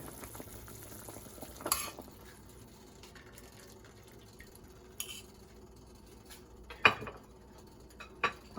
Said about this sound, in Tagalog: Ito'y ating pakuluan ng 10 minutes.